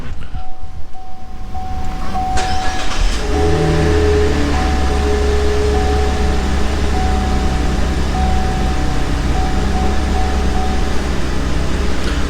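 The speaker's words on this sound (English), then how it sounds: "We go ahead and start the motor up" A Cadillac CTS 3.6 V6 engine cranks briefly and settles into a steady, close idle, with a continuous low rumble and hum that stays constant throughout, and no talking.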